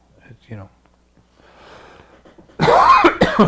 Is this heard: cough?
yes